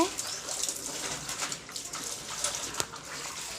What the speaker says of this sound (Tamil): என் வீட்டுக்காரர் எனக்கு துணிலாம் துவைச்சி தர்றாரு நல்லா அலசு